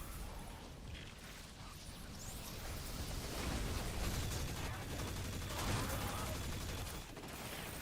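SMG gunfire in the Destiny 2 video game: dense rapid bursts and clattering shots run almost continuously under game effects, with quiet talk in places.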